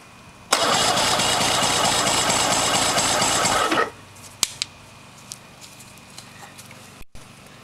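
A 2005 Mercury 200 XL carbureted outboard cranks over for about three seconds during a compression test with the gauge on one cylinder: a loud, even, rapid chugging that stops abruptly, followed by a few faint clicks and knocks.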